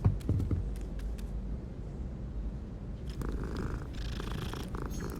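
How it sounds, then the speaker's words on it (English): A cat in the Hogwarts Legacy video game purrs steadily while being petted, a low continuous rumble heard close against quiet game ambience, with brief soft clicks and a faint brighter shimmer near the end. "It's a cat that's used to being petted by students"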